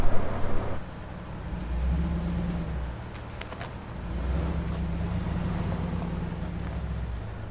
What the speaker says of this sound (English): go ahead and get in it and start it up. Just put it in reverse, turn your wheels to the right.